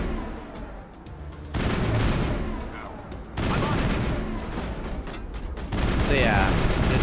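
Rapid bursts of assault rifle fire from the default rifle in the Mass Effect video game, fighting thugs, loud and continuous in layered volleys over busy game effects.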